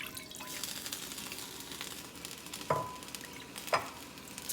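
Water poured into a hot sauté pan just used for vegetables sizzles and bubbles steadily, with two sharper hissing bursts near the end; close and moderately loud, no voices.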